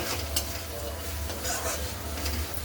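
Coriander being stirred into a chilli bhaji frying in a pan, with a steady soft sizzle under scraping spoon strokes against the pan, close and fairly quiet, no talking.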